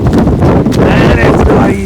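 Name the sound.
wind blowing on an umbrella in the rain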